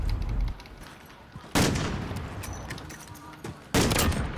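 Gunfire in Call of Duty Modern Warfare on PS5, with sharp loud shots standing out over a steady game background and one player talking briefly.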